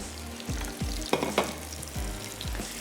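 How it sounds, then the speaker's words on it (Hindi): Masala, chicken and tomatoes fry slowly in a pan over low heat, a soft continuous sizzle with a few scraping stirs and light taps, close and without speech. "तो एक दफ़ा मसाले, चिकन, टमाटर, तमाम चीज़ों को हमने अच्छा सा भून लेना है।"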